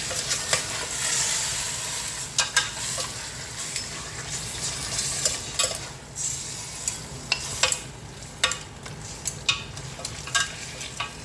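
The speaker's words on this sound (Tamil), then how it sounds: "ஸோ இதை நல்லா நம்ம ஒரு 3 minutesக்கு நல்லா சாட் பண்ணிடலாம் இந்த மட்டனை." Mutton sautéing in a pan for pulao, a steady close sizzle with repeated scraping stir strokes of a spoon against the pan throughout.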